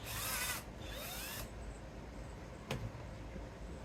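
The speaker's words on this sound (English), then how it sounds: "I'm basically going to drill 2 holes." A power drill boring holes through a plastic tackle box divider, two short high whirring bursts close by, then a brief click and quiet.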